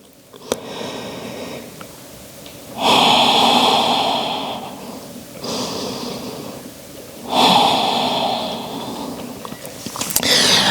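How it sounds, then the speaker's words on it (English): Slow, deep breaths during a yoga power flow class: two long, loud airy exhales a few seconds apart, each followed by a softer, quieter breath, close to the microphone with no talking. "One more breath."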